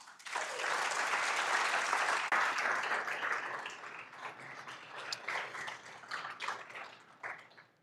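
An audience at a forum applauds to welcome a speaker, a full burst of clapping that starts loud and gradually thins to scattered claps as it fades out.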